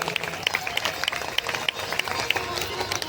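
An audience at a Shri Ram Katha religious gathering in Nalasopara claps to welcome a folk singer, a dense, lively patter of many hands at moderate volume, with talk running beneath it.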